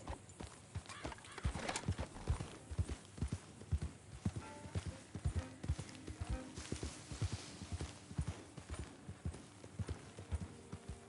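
Steady clip-clopping horse hooves walk along at an even pace in the video game Red Dead Redemption 2, with an occasional faint whinny in the background.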